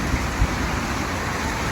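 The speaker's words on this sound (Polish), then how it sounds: "pada deszcz" Rain falls steadily outdoors, a dense, even hiss of drops with a soft low rumble underneath, with no voices.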